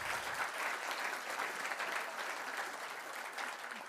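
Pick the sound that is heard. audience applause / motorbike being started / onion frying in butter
audience applause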